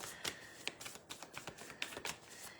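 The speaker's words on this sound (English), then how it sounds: "Giving these cards a good shuffle." Tarot cards are shuffled close by in quick soft riffles and taps, faint and uneven bursts repeating over a couple of seconds with no talking.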